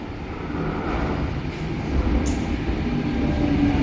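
Train pulling into a station platform, a steady close rumble of wheels and carriages that slowly grows louder, with a brief hiss near the middle and no talking.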